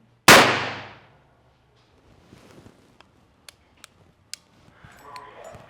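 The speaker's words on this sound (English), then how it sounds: "the effect of the blank is negligible on a coffee cup downrange" A real gun fires a single blank round on a film set: one sharp, loud report that decays within a second, followed by quieter clicks and faint handling noises.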